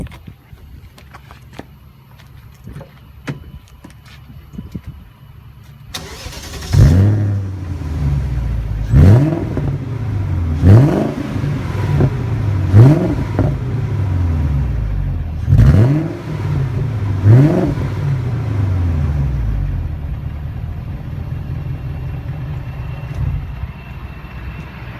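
A BMW 540i with a homemade dual exhaust cranks, catches and settles into a rumbling idle, then gets revved in about six sharp, swelling blips before idling again, heard close and outdoors.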